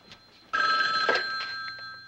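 A telephone bell starts ringing abruptly and keeps going, loud and close, with a bright sustained metallic tone.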